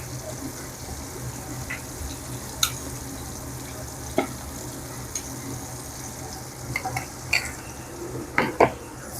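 Shrimp mixture with dried lemon and hot water is stirred in a pot, making a soft bubbling hiss under scattered spoon scrapes and metallic clinks that grow busier toward the end.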